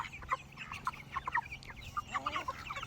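Farm poultry, with a turkey and runner ducks close by, cluck in short repeated bursts, fairly close, over a soft steady background.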